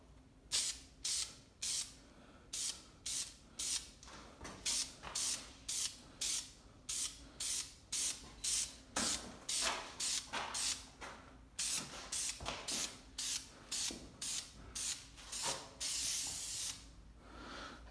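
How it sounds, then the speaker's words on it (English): Short bursts of spray primer hiss in a steady rhythm, around two dozen quick sprays close by on an Onyx RCR build, with no talking. "Probably should spray a little slower."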